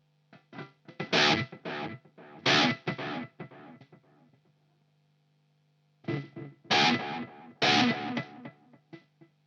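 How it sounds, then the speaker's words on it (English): Electric guitar played through budget Sonicake pedals with reverb and delay combined, two bursts of strummed chords and notes with a trailing wash between them and a pause in the middle, no talking. "Let's combine the reverb and the delay, shall we?"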